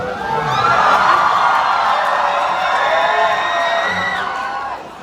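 A crowd at an entrepreneurship summit cheers and shouts, loud whoops and high-pitched yells rising together and holding for several seconds before tapering off near the end.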